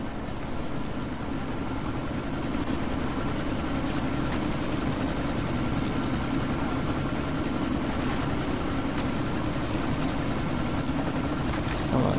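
A helicopter in Deus Ex: Mankind Divided drones steadily nearby, a loud continuous rotor and engine roar with a low throb, holding level throughout without speech.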